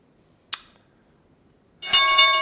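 A stock market closing bell ends a live trading session, ringing loud, bright and sustained for the last moments. Before it, a single sharp click stands out against near silence.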